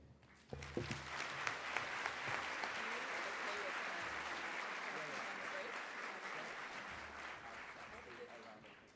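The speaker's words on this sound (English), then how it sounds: "Can I get another round of applause for Dr. Gatcliffe?" An audience at a healthcare conference in Grand Cayman breaks into applause for a speaker, starting abruptly and holding as a dense, even wash of clapping with some voices mixed in.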